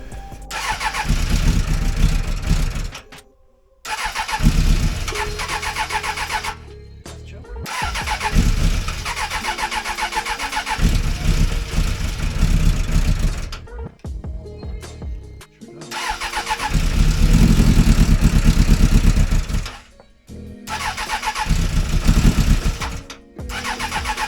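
Suzuki Bandit 600 motorcycle engine, under carburetor repair, cranking and catching on choke, then running in loud, uneven stretches broken by stalls and restarts, close by.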